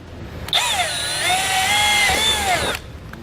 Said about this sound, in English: I'll need a 1/4-inch pilot hole, and I'm going to bring it down just a little bit below center